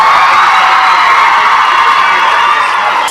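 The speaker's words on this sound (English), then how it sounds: "even the cheering is unlistenable" Loud, dense crowd cheering with high-pitched children's shouts and whoops, a sustained roar that holds steady and then fades out at the very end.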